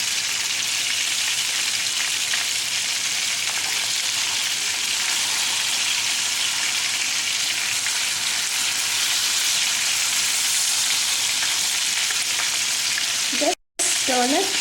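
Sheela fish fries in hot oil in a pan for an Indian recipe, giving off a loud, steady sizzle and crackle that lasts throughout, broken only by a brief cut near the end.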